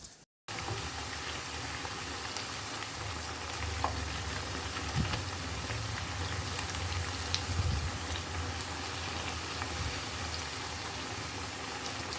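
Vegetable fritters (bakwan sayur) fry in hot oil with a steady, dense sizzle and crackle that carries on unbroken for several seconds, with faint pops and no speech.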